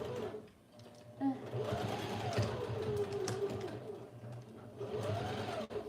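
A sewing machine top stitches in a continuous, close whir lasting several seconds, with a person's voice faintly audible over the steady mechanical hum.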